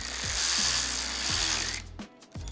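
An Alloyman cordless ratchet wrench whirs loudly up close while tightening bolts, a continuous motor buzz with rapid clicking pulses that breaks off near the end and briefly restarts.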